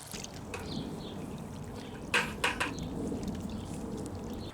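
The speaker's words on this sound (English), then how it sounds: "But we can also use it to refill the pond directly from the barrel like this." Water from a rain barrel running into a garden fish pond, a soft continuous pour and trickle at moderate distance, with a few brief splashy bursts midway.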